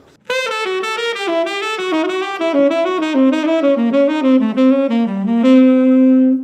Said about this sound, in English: When we take it down, it's going to sound like this.